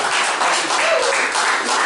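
Steady, dense applause from an audience at a family year-end party, a continuous wash of clapping that holds level for the whole moment with no pauses.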